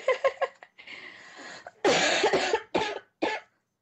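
A burst of several harsh coughs in quick succession, loud and close, with brief pauses between the later fits; a player coughing during a Left 4 Dead 2 game session.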